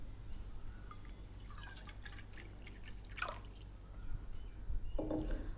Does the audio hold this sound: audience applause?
no